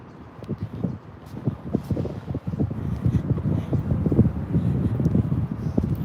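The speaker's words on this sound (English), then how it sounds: "Very windy today." Gusty wind blows across a city street in Clearwater beside a Scientology building, buffeting the microphone as a steady low rumble with repeated stronger gusts and no clear talking.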